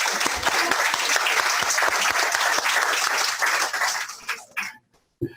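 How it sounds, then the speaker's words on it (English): An audience at a closing plenary session of an interpreting conference claps in person for Chris: a loud, dense burst of applause that holds steady, then tapers into a few scattered claps and stops. "Okay, now you get a face-to-face clap"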